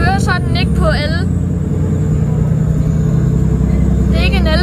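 A diesel bus engine idles and runs with a steady low rumble throughout, heard from inside the bus. Bursts of chirpy, squealing tones come at the start and end, and a faint whine sits in the background.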